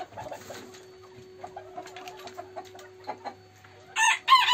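Black Sultan chickens cluck softly and close by on a farm, a scatter of short low calls under a steady hum, ending in a few loud, sharp squawks.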